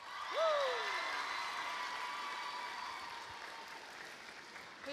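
A school audience applauds its house leaders with a soft, steady wash of clapping heard from some distance. A whooping voice rises briefly near the start.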